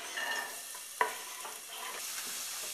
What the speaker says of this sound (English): Saute that until it's heated through